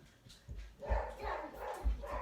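Dogs barking indoors, a few muffled, fairly close woofs in uneven bursts over a low background.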